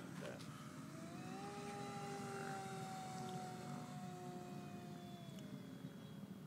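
A ParkZone P51 Mustang RC airplane, likely on a 4S hacker motor, drones steadily overhead with a sustained electric whine that shifts slightly in pitch as it flies past, amid faint outdoor background.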